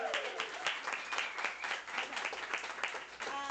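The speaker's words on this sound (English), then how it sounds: "So maybe like another clapping for that." An audience at a poetry and literature event in Dallas claps together, a fairly quiet, steady patter of many hands heard from within the room, with a brief dip near the end.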